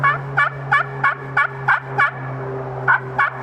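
A slate turkey call imitates a hen yelp: a quick series of raspy, high yelps in a brisk cadence, close and clear over a low hum.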